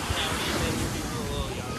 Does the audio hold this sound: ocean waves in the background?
yes